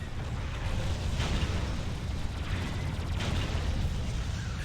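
A rumbling explosion rolls out in the space combat video game Freelancer, a broad, sustained roar with a couple of swelling bursts and no speech over it.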